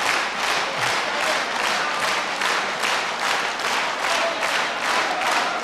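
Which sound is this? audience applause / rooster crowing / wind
audience applause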